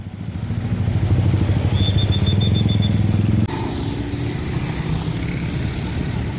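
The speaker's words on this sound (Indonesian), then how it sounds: "setiap sore inilah banyak kendaraan di Balikpapan ya, penambahan kendaraan" Heavy evening traffic of cars and motorcycles in Balikpapan, Indonesia, a dense continuous rumble of engines passing close by, loud and steady, with a brief high whine partway through and a shift in the roar midway.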